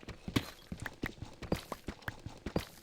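Rhythmic hoofbeats of horses galloping in a video game race clip-clop at a brisk pace, moderately quiet and evenly spaced, with no talking.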